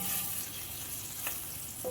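Chopped onion fries in a pan with cardamom, cinnamon, clove and bay leaf for a masala egg curry, a soft, steady sizzle with a couple of faint stirring taps.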